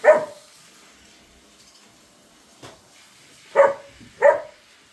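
A farm dog barks sharply once near cows and a calf, then again briefly after a pause, followed by two more loud barks close together near the end; no talking.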